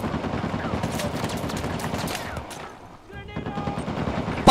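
Sustained machine gun fire rattles in rapid, dense bursts in Uncharted: The Lost Legacy, easing into a short lull before the chatter of shots resumes, with a voice speaking now and then.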